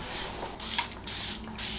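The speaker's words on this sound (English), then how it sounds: "Let me get a spray bottle." Two quick hissing bursts of a spray bottle spraying hair, close by, separated by a short pause.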